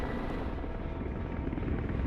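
Helicopter rotor and engine roar from the military strategy video game Broken Arrow, a steady, dense whirring drone that holds at an even level throughout without any talk.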